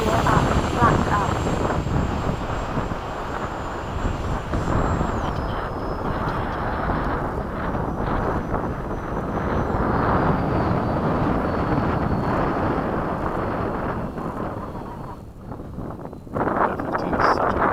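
Freewing 80mm F-5 RC jet taking off at an RC airfield: a loud, steady ducted-fan roar with wind buffeting, a thin high whine sliding downward as it climbs away, with a voice talking over it.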